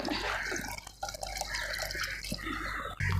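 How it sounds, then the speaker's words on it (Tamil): Water poured into cooked lentils for Tamil wedding-style sambar, a short splashing, trickling pour heard close up for a few seconds. "இப்போ வந்து நம்ம தண்ணி தேவையான அளவு சேர்த்துக்கலாம்"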